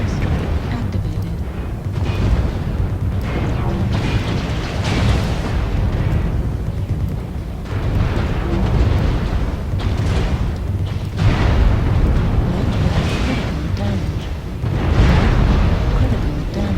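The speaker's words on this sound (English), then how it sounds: "Airstrike activated." Airstrike explosions in the video game MechWarrior Online, a steady run of heavy rumbling booms and blasts that keeps going through the whole stretch, with game voice lines and chatter mixed in.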